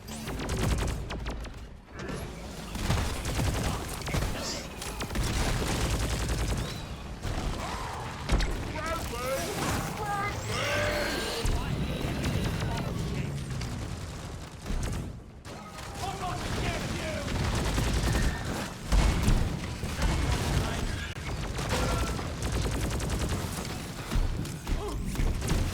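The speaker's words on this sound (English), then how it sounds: "I can go ahead and fight this wave from my safety of my turrets." Turrets fire at a wave of enemies in the video game Deep Rock Galactic, with dense, continuous gunfire, booms and mechanical clatter that carry through the whole stretch.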